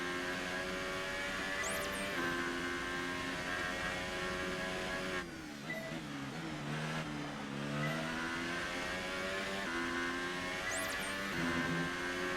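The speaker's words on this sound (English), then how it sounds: "Something like relaxing about just hearing the engine going round and round." A Formula 1 race car engine in the video game F1 2018, raced at the Spanish circuit, holds a steady high-pitched whine that rises and falls through gear changes and revs, continuous and alone at moderate level.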